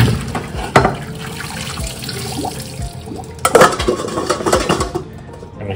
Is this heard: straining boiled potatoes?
yes